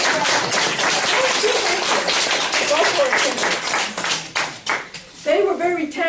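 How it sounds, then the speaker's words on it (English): Audience applause at a stroke-survivor lunch-and-learn talk, a dense wash of many hands clapping held steadily for several seconds before thinning, with a voice breaking in near the end. "please give me one more round of applause for Dr. Lynn"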